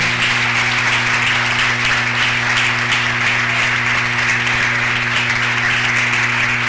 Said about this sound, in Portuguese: Aplauda o Senhor porque Ele merece.